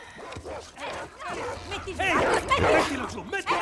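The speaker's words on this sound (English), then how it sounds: "These dogs have been trained to like tear scars apart, and now they're here." Trained dogs in The Last of Us Part II barking, yipping and whimpering excitedly in overlapping bursts throughout, fairly loud and close, mixed with talk and game sound.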